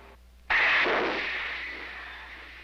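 A torpedo is fired from a submarine with one sudden loud launch blast, followed by a long rushing whoosh of air and water that slowly fades away.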